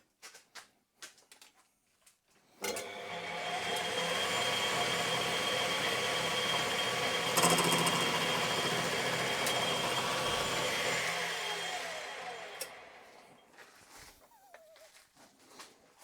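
A metal lathe turning down a brake pedal mounting part, with a live center in the tailstock, running as a steady even whir for about ten seconds before winding down, alone and close.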